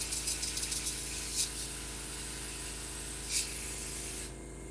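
An airbrush sprays steadily to clear leftover paint after mask painting, a constant close hiss with a few brief sputters, then drops abruptly to a quieter airflow near the end.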